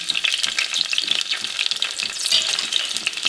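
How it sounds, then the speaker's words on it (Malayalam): Green chili, ginger, garlic and curry leaves frying in hot coconut oil, a lively, crackling sizzle with bursts of spattering and stirring, close and steady. "വെളിച്ചെണ്ണ ചൂടായി കഴിഞ്ഞാൽ പച്ചമുളക്, ഇഞ്ചി, വെളുത്തുള്ളി, കറിവേപ്പില ഇത് ഇടുക."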